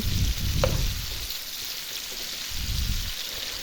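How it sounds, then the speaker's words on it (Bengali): Cauliflower pieces deep frying in hot oil give a continuous bubbling, rain-like crackle close to the mic, with bursts of stronger low bubbling at the start and near the end and one faint clink. "এখন ফুলকপিটা ভেজে নেব যতগুলো আছে সব ভেজে নেব"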